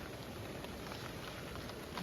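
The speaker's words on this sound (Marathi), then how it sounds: "पाऊस परत चालू झाला" Steady night rain patters continuously at a campsite, a dense even hiss with soft drops throughout, no voices.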